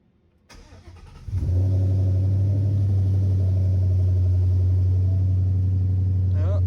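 A turbocharged Ford Mustang 5.0 Coyote V8 with a Hellion turbo kit cranks and catches, then settles into a steady, deep rumbling idle close by, with a brief rev near the end.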